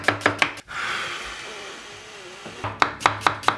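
A knife chops onions on a board in quick rhythmic strokes, a burst of four, a pause with a rubbing sound, then another run of five chops.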